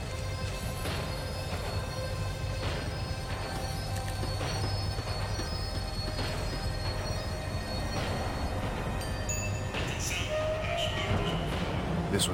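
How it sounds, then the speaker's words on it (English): Tram in Max Payne 3 slowing down, with rumbling wheels and sustained metallic rail squeal plus clanks, grinding on continuously and growing a little harsher near the end. "The tram was slowing down."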